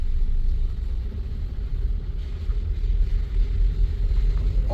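Toyota car with a semi-automatic gearbox pulling away and driving, a steady low engine and road rumble heard from inside the cabin with some wind noise, continuous and fairly loud throughout.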